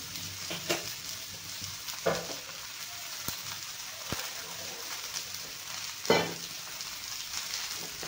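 Onion and spices fry for a curry masala in a pan, giving a soft, continuous sizzle. Occasional sharp clicks and scrapes come from stirring.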